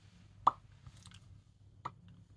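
Soft, close lip smacks in a quiet ASMR setting, one crisp pop followed later by a second, with faint mouth noises between them.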